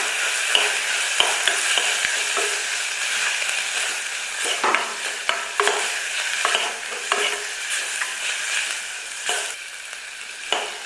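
A ground mixture sautéed in hot oil with sambar powder for kollu kuzhambu, sizzling steadily while a spatula scrapes the pan in quick, repeated strokes, close and fairly loud.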